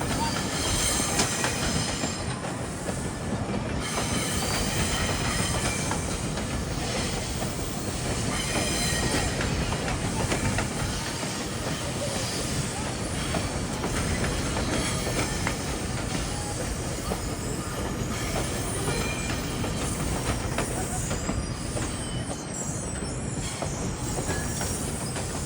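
A passenger train rolls steadily past, led by a locomotive in Metrolink paint, with continuous loud wheel rumble, rail squeal and clatter filling the full span and a faint voice drifting underneath.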